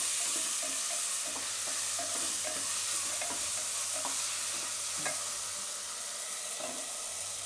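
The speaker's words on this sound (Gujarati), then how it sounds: "આ બધું મિક્સ કરી લઈશું." A spoon stirs pasta sauce with tomato ketchup in a sizzling pan, giving steady frying hiss with repeated soft scraping taps and no voices.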